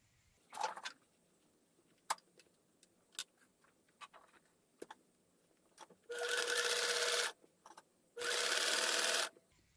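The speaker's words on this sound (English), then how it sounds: "Right now we're going to top stitch." A sewing machine top stitches a zipper in two steady runs of a second or so each, preceded by scattered light clicks and taps of handling the fabric.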